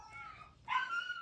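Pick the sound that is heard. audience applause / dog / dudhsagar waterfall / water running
dog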